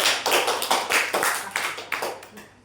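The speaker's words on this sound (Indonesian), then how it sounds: "beri tepuk tangan kepada temannya" Students in a classroom clap for a classmate, a short burst of scattered, uneven hand claps that fade toward the end.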